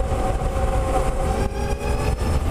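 A Zero DS electric motorcycle rides steadily, its road and wind rumble heavy and continuous with a faint, steady electric motor whine above it.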